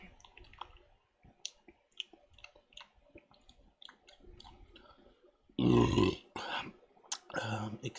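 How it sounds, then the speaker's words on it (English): A man lets out a loud, deep burp after drinking VB beer, a single guttural belch near the mic following scattered small clicks and mouth noises, with a second shorter burst right after. "Excuse my man burp."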